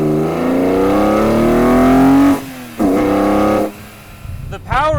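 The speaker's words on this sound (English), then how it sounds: "it becomes a symphony of some of the best induction noise this side of like a Porsche GT3." BMW S54 inline-six fitted with an Evolve carbon airbox, from a Z4 M or E46 M3, revving up with a rising induction howl, then cutting off, with shorter blips and revs, loud and close.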